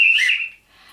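A single shrill whistle blast rings out loud and clear for about half a second, then cuts off, leaving a faint airy tail.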